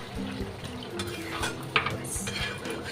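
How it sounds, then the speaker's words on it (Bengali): A spoon scrapes and clinks against a pot as chicken curry is stirred after water is added, soft wet stirring close by with small metallic knocks. "জল দিয়ে এটাকে নেড়ে চেড়ে এবার একটু ঢেকে দেবো"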